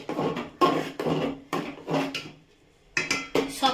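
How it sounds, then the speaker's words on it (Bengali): Khichuri being stirred in a pot on a home kitchen stove, a utensil scraping and knocking against the metal in irregular clattering strokes, close and fairly loud, with a short pause before the last few strokes. "খিচুড়িটা একটুখানি নেড়ে দিই"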